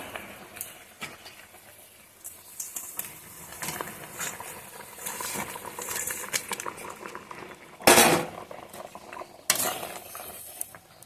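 Dhokas, fried lentil cakes, drop into a pot of boiling gravy for a pea dish, with steady bubbling and soft stirring, a few sharp clinks of utensil on pot and louder splashes near the end, and no talking.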